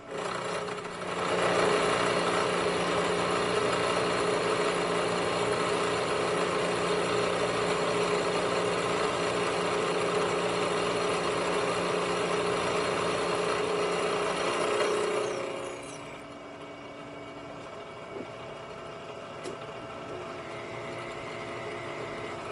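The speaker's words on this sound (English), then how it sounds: "I am machining aluminum with a 2 horsepower machine, so I'm going to do these other 5 blocks in one pass" A K&T 2HL milling machine with a 2 horsepower motor cuts a row of aluminum blocks in one pass, a loud steady grinding roar lasting about fourteen seconds before dropping to a quieter running hum.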